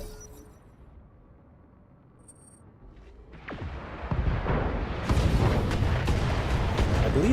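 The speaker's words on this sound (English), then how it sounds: "Yeah, one of the missiles hit." Missile impacts strike a Panther mech in the BattleTech video game, a dull rumble building into loud explosive booms and crashing blasts that grow denser and sustain through the latter half.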